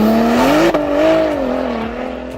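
A Porsche 997 Turbo engine revving, a strong harmonic growl that climbs, dips briefly after a gear change, then swells and settles into a sustained drone, loud and close with no speech.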